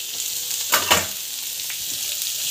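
Onions sautéing in hot oil produce a constant crackling sizzle, with two brief stirring scrapes early on and no speech.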